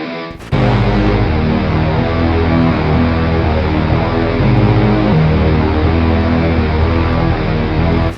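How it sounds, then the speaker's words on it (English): A metal-style guitar preset with added reverb and distortion, played in FL Studio, gives a loud, thick, saturated tone that sustains continuously with a steady chugging pulse after a short quieter lead-in. "moving on to the first guitar, where I use this Greater Foundation preset from Apple Metal Eclipse, where I've adjusted some frequencies and I've added some reverb and distortion"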